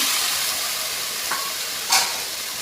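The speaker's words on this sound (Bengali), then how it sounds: "এবার একটু টমেটো বাটা দিয়ে দিচ্ছি" Tomato paste is stirred into a sizzling fish curry, making a steady frying hiss with a brief louder spurt of sizzle as the paste hits the hot oil.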